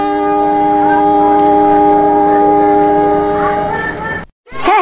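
A cartoon train horn sounds as a train pulls in, a steady sustained tone that cuts off abruptly near the end, followed by a brief burst of other sound.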